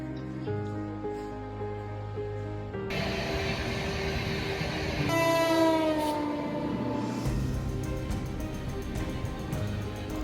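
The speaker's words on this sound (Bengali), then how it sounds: "ফাইনালি আমাদের ট্রেন চলে আসলো।" A train pulling into platform 1 at a North Bengal railway station, with long, loud horn blasts over a steady rumble of the approaching carriages and station background noise.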